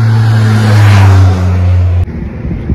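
Motorbikes riding along a mountain road in Himachal Pradesh, a loud, close engine drone that swells and passes before cutting off abruptly, with rougher road noise after.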